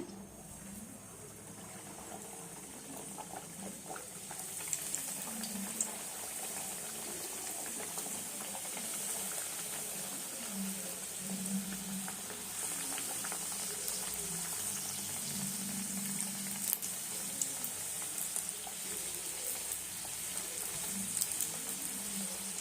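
Rolled badam puri dough sizzles in hot oil at medium flame, a faint, continuous crackling bubbling that swells slightly after the first few seconds and holds steady.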